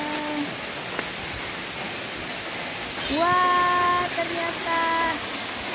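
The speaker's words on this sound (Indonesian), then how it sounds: "Suara airnya keras banget" A waterfall pours out a steady broadband roar that fills the whole clip, while a person speaks briefly over it.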